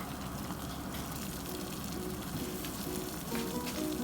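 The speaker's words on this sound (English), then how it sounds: "keep a large pot of water on boiling on medium to high heat" A large pot of water boils on medium-high heat, giving a steady, close bubbling hiss that holds an even level throughout with no talking.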